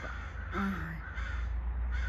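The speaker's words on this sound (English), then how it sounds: "That is the birds." A crow at a wildlife park in Kamloops, British Columbia caws with one clear, harsh call over steady outdoor hum, and no speech is heard.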